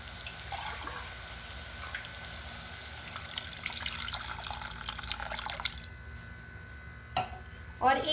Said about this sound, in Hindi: 1 कप के करीब पानी ऐड करूंगी।